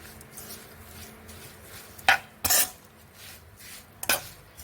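Basil leaves are tossed and mixed with other ingredients in a bowl, with three sharp clattering knocks of a utensil and quiet gaps between them.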